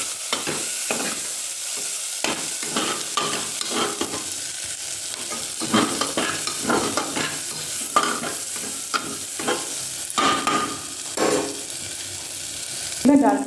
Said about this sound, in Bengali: মুগ ডালগুলো সমস্ত সবজির মধ্যে দিতে আমি হালকা করে ভেজে নেব।